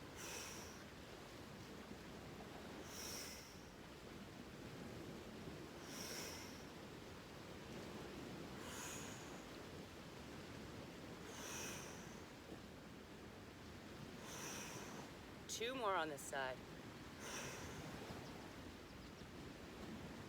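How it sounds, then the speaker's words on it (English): Morning ocean waves wash onto a shoreline on Saturna Island in a steady, soft surge of broadband noise, rising and falling every few seconds, with a calm voice giving brief instructions over it. "waves sound great this morning"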